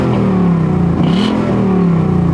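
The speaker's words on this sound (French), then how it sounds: "C'est le V8 5 litres américain mon gars que quand t'accélères, les suspensions à l'arrière, elles s'écrasent." A Ford Mustang's 5-litre American V8 rumbles loudly up close, its deep engine note rising and dipping through a quick rev, dominating everything with no talk over it.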